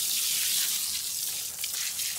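Water is poured steadily over a soil seedbed sown with water spinach, a continuous splashing gush lasting throughout, close and fairly loud.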